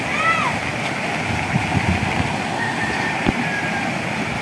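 Fast, high floodwater surges along a canal near a bridge in Camarines Sur after Typhoon Kristine, giving a steady broadband rush of water with nearby splashes while someone talks over it.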